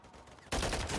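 Sniper gunfire in an online shooter game: a sudden loud blast at the midpoint, then a dense sustained roar of shots and noise that holds to the end.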